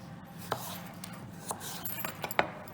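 A kitchen knife trims the ends off vegetables for crudités, giving a few sparse, crisp cuts against a board over a quiet room hum.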